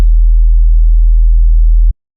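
A loud, pure low synthesized kick bass tone, almost a sine wave with only a few faint harmonics, holds steady for about two seconds and then cuts off abruptly.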